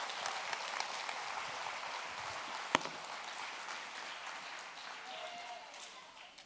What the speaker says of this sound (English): Let's have a nice round of applause for Raj.